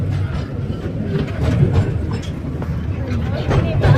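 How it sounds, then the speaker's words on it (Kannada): A passing train rumbles steadily nearby with rhythmic clattering of wheels over rail joints, heavy and continuous, while people talk over it. "ಟ್ರೈನ್ ಹೋಗ್ತಾ ಇದೆ."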